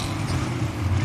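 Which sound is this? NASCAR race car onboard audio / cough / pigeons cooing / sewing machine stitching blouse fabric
NASCAR race car onboard audio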